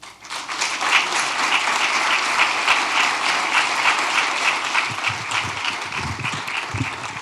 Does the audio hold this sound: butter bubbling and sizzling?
no